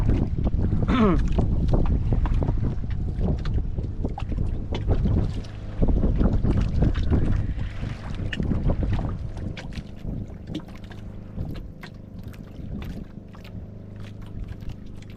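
A bangka fishing boat's engine drones steadily up close, with wind buffeting the microphone and water sloshing around it.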